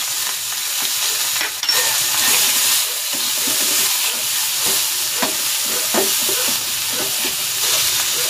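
Onion and garlic sizzle steadily in a hot pan for chicken, a continuous loud frying hiss broken by a few scraping stirs, with no talking.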